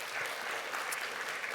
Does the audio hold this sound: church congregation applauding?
yes